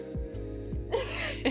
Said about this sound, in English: My boyfriend sneezed.